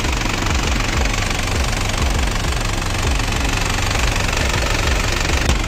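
An Isuzu Crosswind XUV diesel engine runs with a loud, steady, rough knocking clatter close by, with no voices over it.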